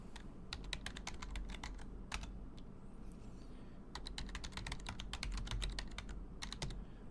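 Close, quiet clatter of a computer keyboard as an NSLookup command is typed into a command prompt, quick bursts of keystrokes separated by short pauses, with no voices.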